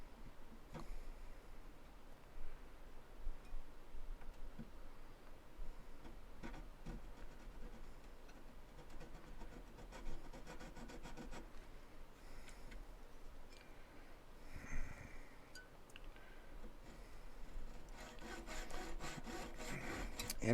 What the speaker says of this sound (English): And as with sawing any silver or gold, you want to take light passes